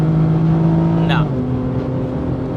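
Supercharged 2017 Holden VF SV6 accelerating hard, a loud steady engine drone heard from inside that shifts pitch partway through, with a brief higher whine.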